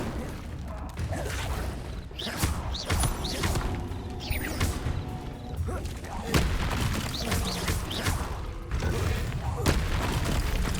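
Repeated spell casts in Hogwarts Legacy, with several booming bursts and thuds spread across a busy combat scene with layered game effects and voices.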